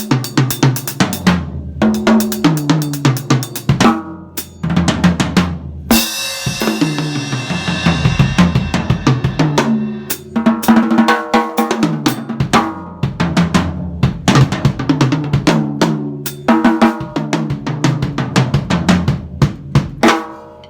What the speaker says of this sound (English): Super thunderous drums, birch drums at that